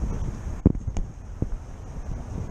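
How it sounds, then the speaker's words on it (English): Gusty wind buffets the microphone along a city street lined with shops, a steady low rumble broken by a few sharp thumps and bursts, with no talk. "It's a windy video."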